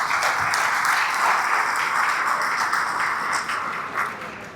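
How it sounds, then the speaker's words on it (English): A round of applause at a regional chamber of commerce awards celebration, a full crowd clapping steadily at close range, slowly thinning toward the end. "Round of applause, folks"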